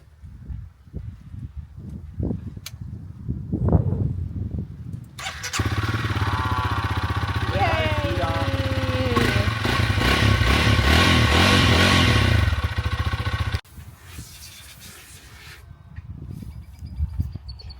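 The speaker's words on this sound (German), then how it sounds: "wir versuchen das Motorrad zu starten" A motorcycle on a road trip through Mexico is being started, its engine catching into a steady, loud running drone that lasts several seconds before cutting off.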